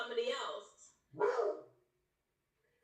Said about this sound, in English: Did I just hear a dog?